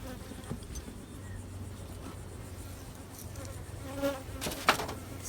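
Honey bees buzzing around a swarm hive fitted with a honey super, a steady low drone of many wings with a few louder passes as individual bees fly close by.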